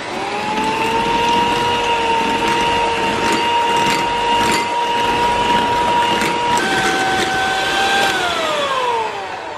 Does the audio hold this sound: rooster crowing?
no